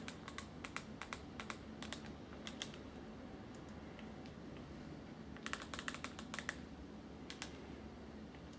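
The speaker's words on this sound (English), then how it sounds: "Helps if you type the password properly." Someone types a password on a computer keyboard while booting a Raspberry Pi Model A+, giving two quick bursts of light key clicks close to the mic in a quiet room.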